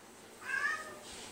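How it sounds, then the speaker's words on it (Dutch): A house cat gives a single short meow, fairly close and moderately loud, over a quiet room background. "Dat is mijn kat."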